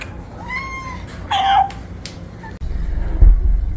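A cat meows a few times at close range, with drawn-out wavering calls, the loudest one in the middle, followed by louder low rumbling background noise.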